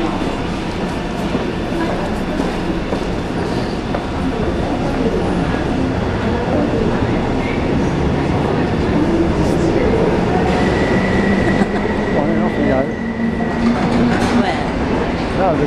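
Underground subway train in motion, a loud continuous rumble and rattle with wheel clatter and a brief high squeal, while people talk faintly beneath the noise.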